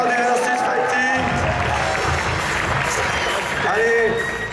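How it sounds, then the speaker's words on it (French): A dense crowd applauds and cheers for the finalists at the Stunfest 2014 Capcom vs SNK 2 team fighting-game finals, loud and continuous throughout with a roaring, broadband wash and no quiet gaps. "je vous demande, messieurs, un tonnerre d'applaudissements pour ces deux grandes stars du Versus Fighting"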